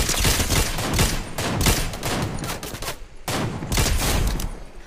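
Rapid bursts of automatic gunfire from a video game shootout crackle in dense, overlapping volleys with a brief pause, loud and continuous throughout.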